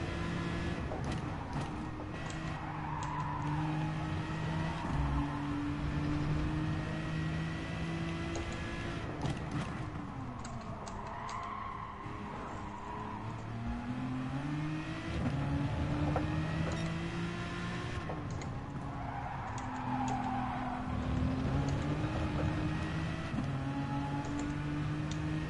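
A GT race car engine in GT Sport at Brands Hatch, droning and revving steadily with rising and falling pitch through gear changes, continuous and moderately loud throughout.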